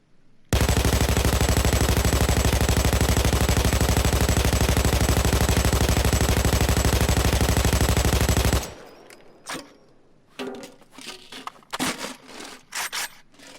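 An RPK light machine gun in Payday 2 fires one loud unbroken burst lasting about eight seconds, then cuts off into scattered quieter clicks and handling noises.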